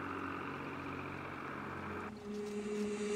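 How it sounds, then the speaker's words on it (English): A tractor engine drones in a low, steady rumble close by in a quiet fjord setting, fairly faint and unbroken, with no talk. "you can hear the tractor that is trying to decide whether to run me over or not"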